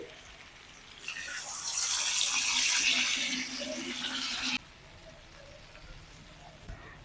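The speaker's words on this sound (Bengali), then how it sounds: "এবার আমি দিয়ে দিচ্ছি পানি" Water is poured into a biryani pot over frying potatoes and meat, a loud hissing splash that starts suddenly, runs for several seconds, then cuts off to a quieter simmer.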